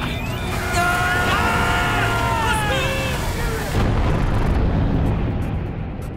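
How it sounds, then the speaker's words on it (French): Underwater explosions from a creature feature film rumble as a deep, loud roar under bursts of sonar-like pings and radio chatter. A sharp shift then leaves a heavy low rumble rolling on. "Multiples explosions sous-marines."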